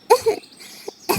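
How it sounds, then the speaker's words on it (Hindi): A cartoon crow character coughs in a few short, dry bursts, one near the start, a small one midway and another at the end, fairly close and clear with no talk. "मुझे बहुत खांसी हो रही है।"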